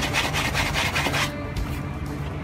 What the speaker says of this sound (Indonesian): Untuk kotoran yang seperti ini emang kita sedikit menyikat lebih keras agar kotorannya